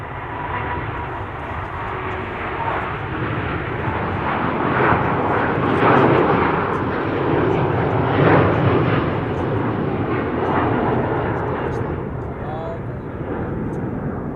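Delta Airlines jet departing Amsterdam Schiphol for New York JFK, a broad steady engine roar swelling and holding across the whole stretch, with a voice talking over it.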